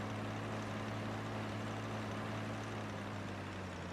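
A tractor engine in the Farming Simulator 15 video game drones steadily at a low idle, a constant even rumble with no talking over it.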